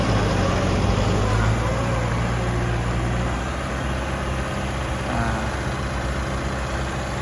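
A Mahindra 6075 tractor engine runs steadily at idle, a continuous low, even rumble that holds at close range for the whole stretch with no pauses or revs.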